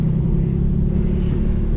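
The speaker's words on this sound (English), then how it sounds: "There's a vehicle coming." A car is heard nearby as a loud, steady low engine rumble that holds for the brief moment without clear change, with no talking.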